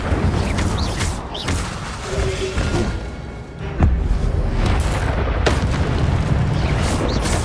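An Incendio fire spell cast in the video game Hogwarts Legacy: a loud, dense burst of roaring, crackling flame and booming impact noise that holds steady for several seconds with sharp pops mixed in.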